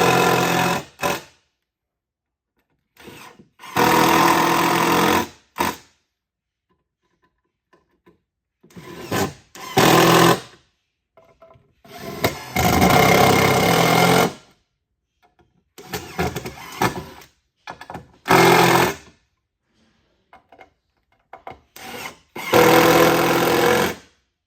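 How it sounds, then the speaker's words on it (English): A power screwdriver drives screws into the floor of a railway car, several bursts of buzzing motor whine a second or two long each, separated by silent pauses, close and loud. "now you get to watch me actually put in screws"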